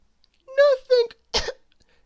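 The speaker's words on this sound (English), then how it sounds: "trying to hide his cough" A short voiced sound followed by a sharp, breathy cough-like burst, brief and close, in an otherwise quiet room.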